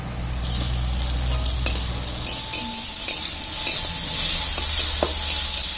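Chopped tomatoes hitting fried onion in a hot pan for a fish curry, loud continuous sizzling with scraping stir strokes and occasional utensil taps.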